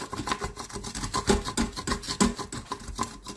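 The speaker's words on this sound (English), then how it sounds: "we're just going to scrape that off the bottom here with this wooden spoon the best we can" A wooden spoon scraping the bottom of an Instant Pot with a little juice in it, rhythmic rasping strokes, loud and close with no talk.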